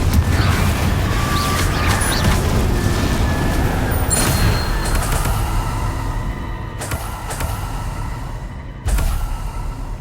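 The Confringo fire spell bursts in Hogwarts Legacy amid dense combat against Inferi: loud booming blasts and crashing impacts roll into one another, then a heavy explosion lands near the end, with no clear talk.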